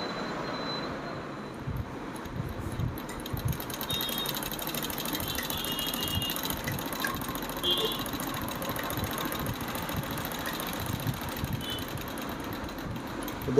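An old-model sewing machine under repair runs and stitches with a steady, loud, continuous mechanical rattle and clatter throughout.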